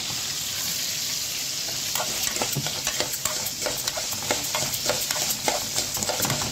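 Breaded chicken panne sizzles and fries steadily in a pan in a home Egyptian kitchen, with frequent scraping and stirring sounds on top; no talking.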